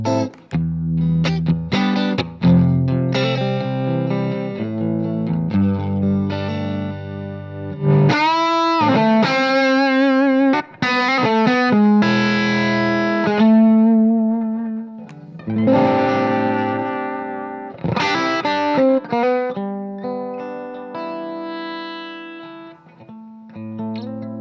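An electric guitar played through an amp with the guitar's volume knob rolled down for a clean tone, sounding out a continuous run of notes and chords for about twenty-four seconds, with no voices.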